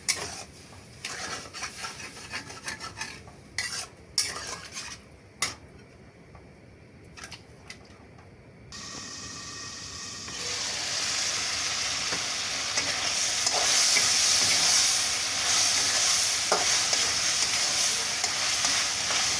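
Meat cooking in a pot, first with scattered clattering stirs and clicks against a quieter background, then a steady, louder bubbling sizzle that builds and holds for the rest.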